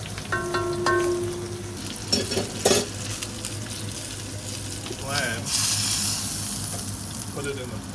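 Lamb tajine ingredients being stirred and fried in a pan, with a steady sizzle and scraping stirring strokes, a few louder clatters midway, and some talk over the cooking.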